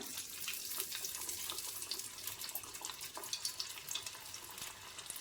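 Soaked raw banana kabab pieces fry in hot oil with a soft, continuous crackling sizzle, quiet and steady with small pops scattered throughout.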